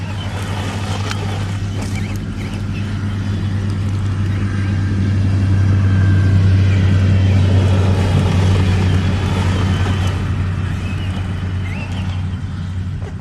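Traxxas Stampede 4x4 RC truck doing donuts, its electric motor giving a steady, loud low whine with a gravelly surface rush that swells in the middle and then eases slightly, with no voices over it.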